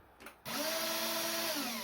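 A CEL Power8 PRO drill plugged into mains power spins up abruptly after a brief click and runs with a steady, close, high whine until the clip ends.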